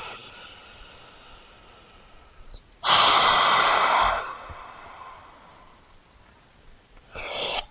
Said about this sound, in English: Take a nice big breath in through the nose and exhale out through the mouth.